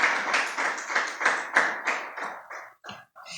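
A church congregation claps hands together in a steady, loud rhythm as an offering of praise, about three claps per second, before the clapping thins out and trails off into scattered final claps.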